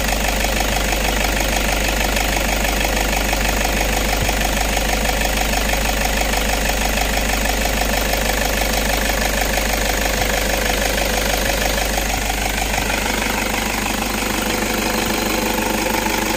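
A Toyota Innova engine idles close up after an alternator repair, with a steady, rhythmic chugging hum that stays even throughout, with no voices.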